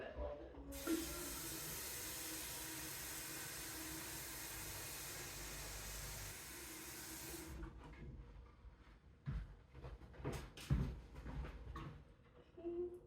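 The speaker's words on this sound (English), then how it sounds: "giving it a last little bit of water to keep the soil nice and moist" Water pours steadily into the soil of a newly potted Monstera Deliciosa for several seconds, a close hissing stream, then stops and is followed by intermittent knocks and handling sounds.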